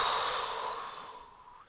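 A single slow, smooth exhale during an athlete's breathing exercise, close and breathy, fading gradually over under two seconds with no talking.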